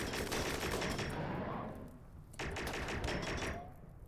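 Charge blaster turret fire in the video game RimWorld rattles in rapid continuous bursts, dense and loud, with a brief lull in the middle before the barrage resumes.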